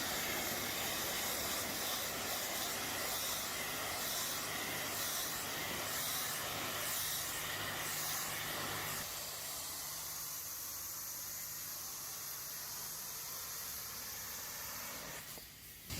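A carpet cargo mat is sprayed with soapy water, giving a steady close hiss of spray that shifts to a softer, duller wash partway through and continues evenly without talking.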